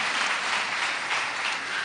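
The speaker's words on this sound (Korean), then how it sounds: "사모님께 박수 한번 드리겠습니다" A church congregation claps together in a dense, continuous burst of applause, loud and sustained for the full two seconds with no voices heard above it.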